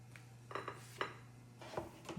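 Salmon and green beans cooked in an air fryer are served onto plates with a few light clinks of utensils and dishware, scattered over about two seconds beneath a steady low hum.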